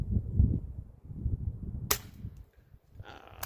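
A Weihrauch HW air rifle fired outdoors, one sharp close crack standing out over faint low rumble, followed shortly by a softer second report.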